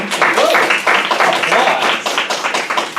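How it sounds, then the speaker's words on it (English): An audience at a talk applauds at the close, a dense, near burst of many hands clapping for about three seconds, with some voices mixed in. "Applause."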